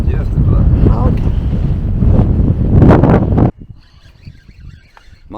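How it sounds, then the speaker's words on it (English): Strong wind rushes steadily over an open-air microphone while a person bass fishes from a boat between tropical storms. The blowing roars loudly for about three and a half seconds, then cuts to a faint, quieter background. "And blowing, the wind's just a blowing."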